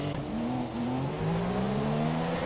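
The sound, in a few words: racing car engine braking in a video game race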